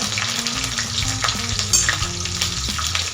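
Chopped green chillies and curry leaves spit and crackle in hot oil for besan bhurji, a busy close sizzle with a few stirring knocks over a short stretch.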